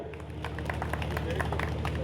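A village crowd gathered for a road inauguration in Badwasi claps steadily, a rapid patter of hands over a low electrical hum with faint background chatter.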